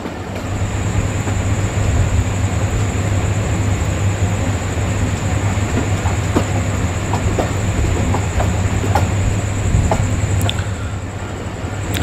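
The Fareed Express train rolls out of Lahore gradually picking up speed, a loud continuous rumble of carriages with a low steady hum and scattered wheel clicks and clanks along the track.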